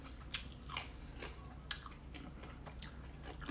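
Soft crunchy bites into fried chicken and chive dumplings filled with minced chicken, a few close crisp crackles and wet chewing over a faint steady background hum, no talking.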